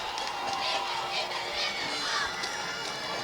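High school football crowd in the stands, cheering and roaring as a steady dense wash of noise at middle distance, with an announcer talking over it.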